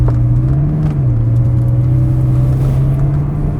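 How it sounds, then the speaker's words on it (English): Ferrari 360 Spider engine with F1 transmission pulling away in second gear in normal mode, heard from the cockpit as a steady, loud low drone that dips once briefly and then holds a constant hum. "I'm starting out in second gear"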